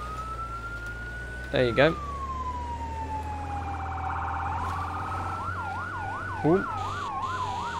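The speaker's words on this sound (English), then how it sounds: "Okay, a siren. Emergency lights." A fire engine siren in Firefighting Simulator rises in a long wail, then switches to a fast yelping sweep, loud and sustained, with a man's brief remarks breaking in twice.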